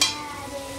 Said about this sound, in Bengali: এবারে এর মধ্যে আমি আগে থেকে সেদ্ধ করা কাঁকড়া দিয়ে দেবো।